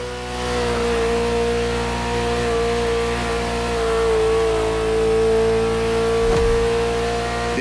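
A Ferrari supercar in The Crew Motorfest holds a steady, loud engine tone that swells and eases slightly as it cruises. A brief sharp burst lands near the end.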